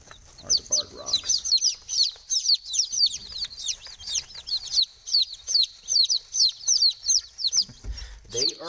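Barred Rock chicks freshly arrived from a hatchery, peeping constantly in rapid, high, shrill chirps from a close group, continuing almost without pause for the whole stretch.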